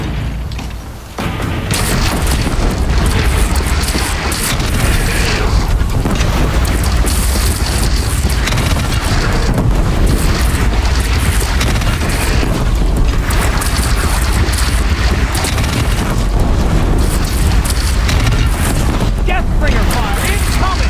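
Deathbringer machine firing in Horizon Zero Dawn: a sustained, dense barrage of booming blasts and mechanical clatter that runs loud and unbroken for about twenty seconds, with voices shouting over it.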